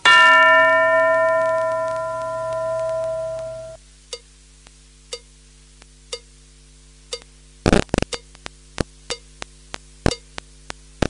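A single struck bell in a radio English lesson rings out with a bright metallic tone that hums and fades over a few seconds. A string of sharp, faint clicks and taps follows.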